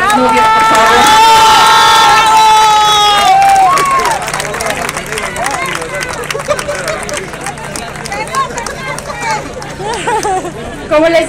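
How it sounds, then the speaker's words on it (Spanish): A crowd cheers loudly for a newly engaged couple after a marriage proposal at an SSP race, with high whoops and shouts at the start, then settling into lively babble and scattered calls as the noise eases after four seconds. "Vamos a darle un fuerte aplauso a los novios, por favor"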